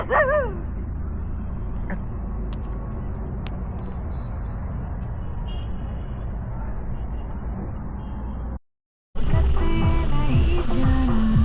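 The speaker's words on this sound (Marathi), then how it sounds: "हा एक डॉग आलेला आहे." A dog yips and whimpers over steady traffic rumble, with a brief gap of silence before the noise and barking return.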